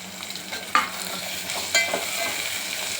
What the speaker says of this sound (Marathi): आता टोमॅटो आणि कांदा परत चांगला भाजून घ्यायचा।